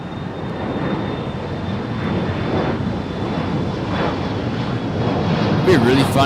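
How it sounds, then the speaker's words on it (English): A steady Boeing 747 jet engine roar and whine builds gradually as the engines start up outdoors at Los Angeles International Airport, with wind buffeting the microphone and a rising tone near the end. "You can hear the sound of that 747 starting up."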